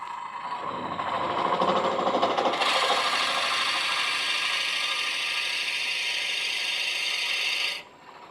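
A one-inch brad point bit bores into ash hardwood on a Shopsmith lathe at 800 RPM, a loud continuous grinding, rasping cut that brightens partway through and stops abruptly near the end.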